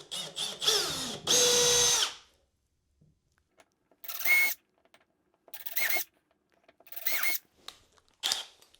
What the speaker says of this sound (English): our smallest drill bit, following the angle of the power link plate